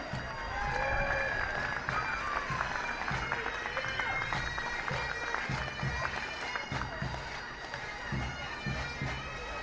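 An outdoor crowd at the Sligo St Patrick's Day parade applauds a young parade squad, a continuous spread of clapping and light cheering heard at some distance, with a voice speaking over it.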